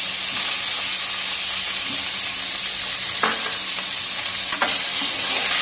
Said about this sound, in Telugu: కొంచెం ఆయిల్లో ఫ్రై అవ్వనివ్వాలి.